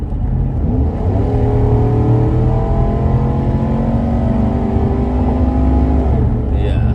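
A newly bought Porsche warming up on a road revs its engine close by, a loud sustained drone whose pitch climbs steadily and holds before easing off near the end.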